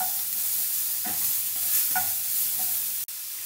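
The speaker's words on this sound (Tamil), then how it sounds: "இப்போது எல்லாத்தையும் நல்லா கொஞ்சம் வறுத்துக்கலாம்." Dried red chillies, tomato and onion frying together in a pan, a soft steady sizzle with a few stirring scrapes and a brief dropout near the end.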